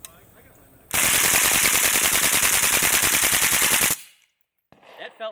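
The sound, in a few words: suppressed AK RPK full auto fire with subsonic ammo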